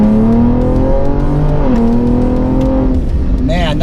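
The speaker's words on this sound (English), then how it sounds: "Now I'm going to try it with the rolling anti-lag, and all I do is floor it, hold down the button" A Ford Explorer ST launches on rolling anti-lag, its engine droning loud and steady with harmonics climbing and dipping through the pull, then revving sharply upward near the end, with a person talking over it.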